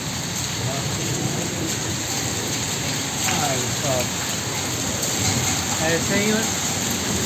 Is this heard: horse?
no